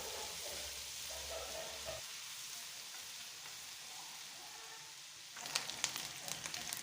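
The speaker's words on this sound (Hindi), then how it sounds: "अब इसमें बचा हुआ लहसुन और अदरक ऐड कर देंगे और अच्छी तरह से मिक्स करेंगे जब तक फ्राई हो जाए।" Garlic and ginger fry in mustard oil with a soft, steady sizzle at low volume, followed by a few light scraping stirs near the end.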